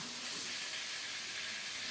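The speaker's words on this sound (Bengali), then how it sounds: "একটা একটা করে গরম তেলে ছেড়ে দিচ্ছি লাল লাল করে ভেজে নেব" Bata fish frying in hot oil gives a steady, bright hiss and sizzle, fairly soft, with no voices.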